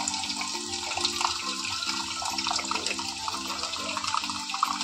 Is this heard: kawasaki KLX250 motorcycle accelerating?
no